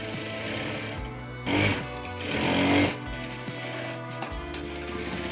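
A sewing machine runs in short, steady bursts while stitching the fitting seam of an umbrella dress, a mechanical buzzing hum with two louder, rougher stretches in the middle.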